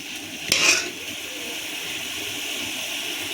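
Grated beetroot being stirred and sautéed in a pan for halwa, with a brief scrape and clink of the spoon near the start, then a steady soft sizzle throughout.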